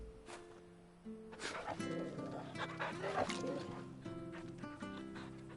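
Dog in Final Fantasy XVI whimpers and gives soft yips and small barks, close and fairly quiet against game background sounds.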